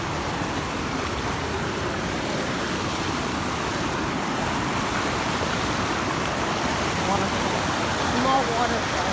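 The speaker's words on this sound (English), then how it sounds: "Small waterfall." A small outdoor waterfall gives a steady, broadband rush of falling water close by, continuous for the whole stretch, with a voice faintly present over it.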